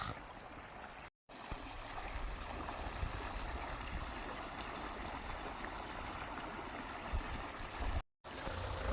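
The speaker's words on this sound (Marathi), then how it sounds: "एकदा आमच्या विहिरीचं पाणी चालतं तर एवढा फवारा आहे" Water gushes from the pump of a newly dug well in a strong spray, a steady, loud rushing flow that cuts out briefly twice.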